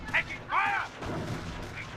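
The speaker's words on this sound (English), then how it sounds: "I call in a artillery barrage, which was pretty effective if you ask me" Artillery barrage in the video game Company of Heroes during a 2v2 match, with a couple of booming shell impacts and blasts up close that overlap with other battle sounds.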